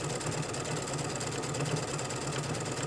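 A sewing machine runs continuously making tapering stitches, a steady close mechanical hum and rapid rhythmic clatter with no pauses and no voices.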